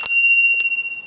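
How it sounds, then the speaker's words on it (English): A bell of approval is struck twice, a sharp ring followed by a softer second strike, with a long bright metallic tone sustaining through the short moment. "My mom got me that bell."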